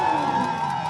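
Loud crowd cheering at a Super Race motor race held without spectators, coming from the small group of staff and officials on site; a brief sustained roar of voices with a steady hum beneath it.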